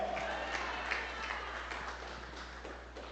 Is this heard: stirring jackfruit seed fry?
no